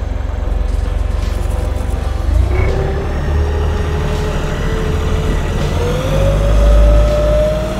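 A Tronair Eagle TTR tow tractor driving along, its engine droning steadily and loudly up close with a low rumble and a gradual rise in pitch toward the end, no speech.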